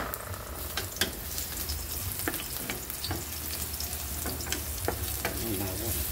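Garlic sautés in hot cooking oil, a continuous loud sizzle broken by sharp crackles and pops as it is stirred, with no one speaking.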